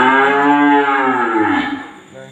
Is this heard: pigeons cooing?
no